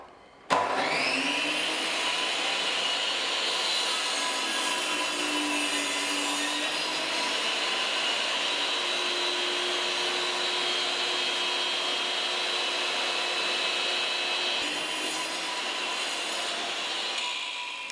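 Woodworking machine cutting crossbars for an old-style window, a loud, steady whine that starts abruptly and runs continuously with a sustained high-pitched tone, then tails off slightly at the end.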